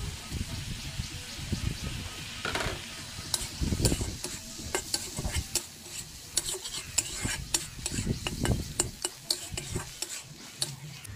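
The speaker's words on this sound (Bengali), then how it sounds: "এবার এর মধ্যে দিয়ে দিচ্ছি চিংড়ি মাছ, লবণ, হলুদ আর কোড়ানো নারকেল দিয়ে হালকা করে ভেজে নেব" Prawns tossed with salt, turmeric and grated coconut sizzle and crackle in a kadai, with repeated stirring scrapes and clinks of the spatula against the pan over a steady frying hiss.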